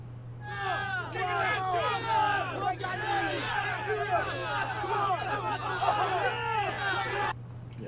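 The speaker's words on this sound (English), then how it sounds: "And get some crowd noise here." Crowd noise used as a temporary sound effect during audio editing: a dense, continuous hubbub of many overlapping voices and shouts at moderate loudness, running steadily for about seven seconds before cutting off.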